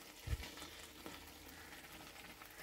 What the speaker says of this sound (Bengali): এবার এই ফুলকপি আলু ভাজাটা দিয়ে দিচ্ছি এতে